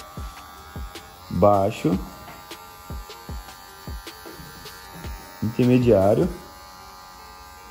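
Electric hair clipper buzzing while cutting a high fade, a steady mains-like hum with short rhythmic clicks, and someone speaking briefly over it twice.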